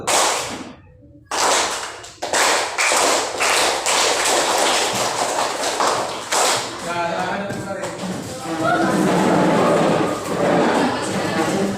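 A group of children in an Indonesian classroom perform a rhythmic clapping chant, sharp sharp claps in quick bursts followed by a denser patter of claps and voices.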